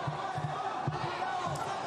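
An MMA fight crowd reacts to two straight right punches, a steady roar of voices in an arena with a few dull low thuds underneath, heard at moderate loudness throughout.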